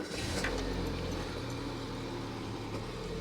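A 1980s Citroen BX pulls away with a steady, muffled engine hum and road rumble heard from inside the cabin, with no voices.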